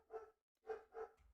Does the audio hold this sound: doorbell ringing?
no